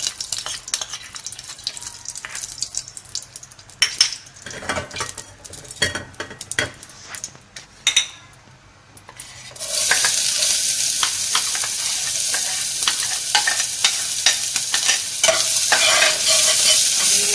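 Ghee goes into a hot pan with utensil scraping and stirring first, then a loud, steady sizzle takes over and continues close up for the rest of the stretch.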